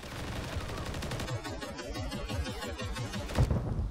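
Rapid gunfire during a ranked video game match, with dense bursts of automatic shots rattling steadily, then a sharper report near the end.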